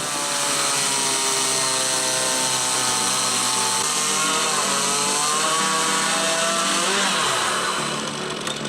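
A Stihl MS 881 chainsaw roars continuously at high revs, loud and close, its pitch dipping slightly as the chain bites into an oak log and then easing off near the end.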